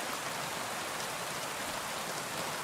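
Heavy rain pours down in the video game Kingdom Come: Deliverance 2, a loud, dense, steady hiss of drops on surfaces with no break and no voices.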